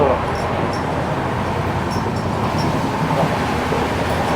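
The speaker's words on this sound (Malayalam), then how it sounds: "ട്രെയിൻ നല്ല അത്യാവശ്യം നല്ല സ്പീഡിൽ തന്നെ പോകുന്നുണ്ട്" A train runs at speed on a trip toward Panvel, its steady loud rumble and rattling wheels heard from inside a carriage, continuous with no breaks.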